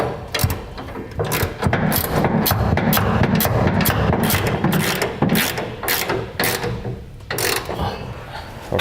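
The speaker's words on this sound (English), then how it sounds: "we can begin the process of tightening down all of our bolts, starting with the center section bolts to our rails first" A hand ratchet tightens bolts on gooseneck hitch rails under a 2006 Dodge Ram pickup, with quick repeated clicking strokes in bursts and short pauses between, close and fairly loud.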